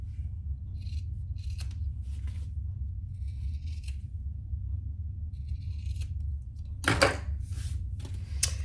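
Scissors trim the corners of a handmade holiday gift, giving a series of short crisp snips and paper rustles at irregular intervals, close and fairly quiet over a low steady room hum.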